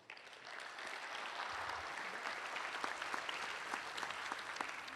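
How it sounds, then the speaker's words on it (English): Steady audience applause fills a conference hall after a technical talk on Kubernetes on Microsoft Azure, dense clapping rising quickly and holding even and sustained without pause. "Another round of applause for Janie, folks."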